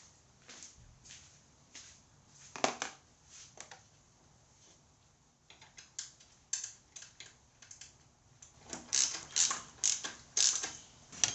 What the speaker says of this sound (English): Put the bolt back on.